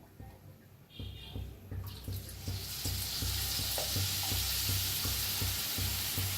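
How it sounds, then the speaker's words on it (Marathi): Batter or potato filling for vada pav fries in hot oil. The clip starts quiet, then a loud, hissing sizzle builds and holds steady, with soft rhythmic low thumps underneath. "त्याला मी तळून घेते चांगलं."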